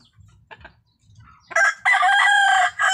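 A seven-month-old broodcock of claret and sweater lineage crows once, loud and close, a long strained call after a few soft clucks and rustles.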